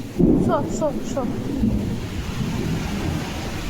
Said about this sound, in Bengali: বাজ পড়ছে বিশাল বিশাল